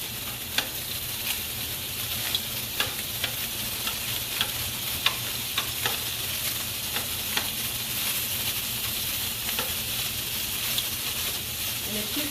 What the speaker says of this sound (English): So I'm going to brown the sausage on both sides.